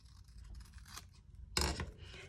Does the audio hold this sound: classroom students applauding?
no